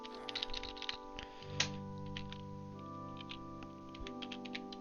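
A computer keyboard is typed on in short quick bursts of light clicks as a name is entered, close and fairly quiet over a steady game music background, with no talking.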